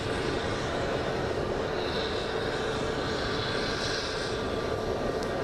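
An airplane departing Sky Harbor International Airport in Phoenix roars steadily as a broad, continuous engine rumble, moderately distant and unbroken throughout, with no voices over it.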